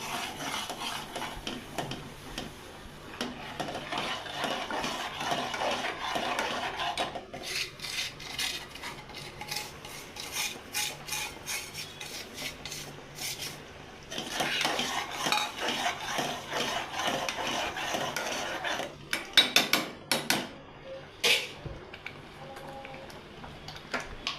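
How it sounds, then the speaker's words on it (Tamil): Upma mixture being stirred into water in a pan over a low flame, with rapid rhythmic spoon clicks and scraping against the metal in long bursts, close and fairly quiet. "சிம்மில் வச்சுட்டு பொறுமையாக போட்டு கலக்கலாம்"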